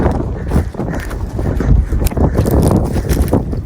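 Steady blustery wind buffeting the microphone outdoors near Kangal dogs, low rumbling roar with gusty surges throughout, no speech.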